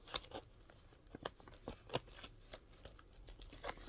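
Scissors cut open an envelope in a string of close, crisp paper snips and crackles at an uneven pace, fairly quiet and without speech.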